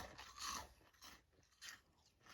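Dehydrated marshmallows, a couple stuck together, crunched close up in a few crisp bursts of quiet, brittle crackling.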